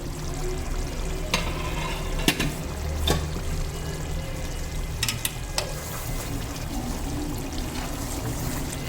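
Chicken and tomato masala simmering in a pot on the stove, a steady bubbling sizzle with occasional brief clinks and scrapes, continuous and fairly close with no talking.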